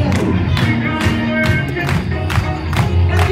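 Church congregation clapping in a steady rhythmic beat, roughly seven or eight loud claps over a dense crowd murmur, with music or voices underneath.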